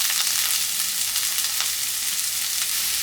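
Onions frying in olive oil in a pan give a steady, loud, close sizzle that holds evenly throughout, with a dense hiss and no talking.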